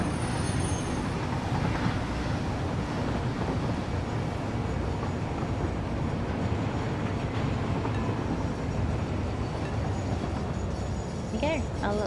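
Train arriving at a hub station in the video game Satisfactory, a constant heavy rumble with faint squealing tones near the end, loud and unbroken.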